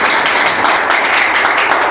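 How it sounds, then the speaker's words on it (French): Audience applause at a ceremony installing a new bâtonnier in Miragoâne, dense steady clapping from many hands filling the room, loud and continuous throughout. "Applaudissez s'il vous plaît."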